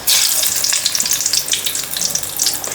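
Chilies dipped in batter sizzle steadily in hot oil, making spicy mirchi fritters in a home kitchen; a loud, continuous crackling fry with no voices.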